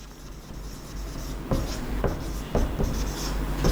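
Marker or chalk strokes on a board during a physics lecture: short scratchy squeaks in an irregular rhythm over a low room hum, close and moderately loud, with no talk.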